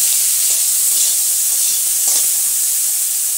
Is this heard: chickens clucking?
no